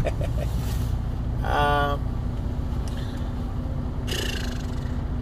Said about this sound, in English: Come on, start, truck.